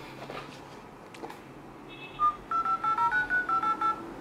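Phone dialing tones play through the rear speakerphone of a Freelander PD10 3GS phone tablet, a quick series of about eight short, evenly spaced beeps following a couple of faint taps.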